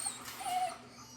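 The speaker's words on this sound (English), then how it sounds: "This is an 8-week-old German Shepherd puppy." An 8-week-old German Shepherd puppy whimpering, a short, thin, high-pitched whine heard close and fairly quiet, lasting about a second.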